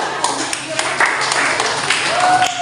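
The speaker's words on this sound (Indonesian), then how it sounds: "Tepuk tangan dulu untuk Prof. Wira." Applause and clapping from an audience in an Indonesian classroom or seminar session, thanking Prof. Wira, with scattered hand claps over a steady spread of noise and a voice talking above it.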